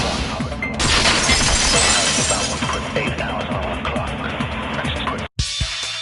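A vase shatters in a dramatized story scene, a loud burst of breaking and crashing debris that spreads across several seconds before cutting to a brief silence and a quieter tail.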